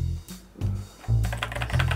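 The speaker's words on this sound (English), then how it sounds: "Love how this keyboard sounds." Typing on an 8BitDo Retro mechanical keyboard with a plastic case, close-up bursts of clicky keystrokes in short quick runs separated by brief pauses, fairly loud and alone without any speech.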